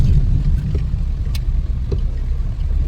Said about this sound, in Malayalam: നെയ്ലാൻഡിൻ്റെ വണ്ടി പോണേ